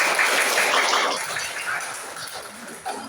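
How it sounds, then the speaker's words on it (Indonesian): A small group claps in applause for a participant in a classroom session, a short burst of clapping that gradually tapers off. "Nah, tepuk tangan untuk Anda."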